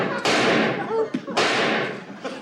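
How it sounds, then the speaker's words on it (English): Two loud, close gunshot bangs from the TV sitcom Soap, about a second apart, each with a decaying tail. A brief voice sounds between them. "Dad's shooting at Mr. Kirby again."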